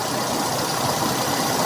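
Motorcycle engine idling at a steady stationary speed while its carburettor idle setting is checked, giving a continuous even mechanical drone with slight vibration, close and fairly loud with no talk.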